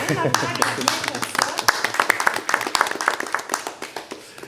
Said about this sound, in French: Je pense qu'on va l'applaudir.